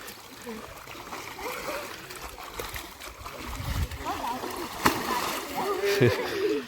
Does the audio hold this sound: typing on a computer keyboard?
no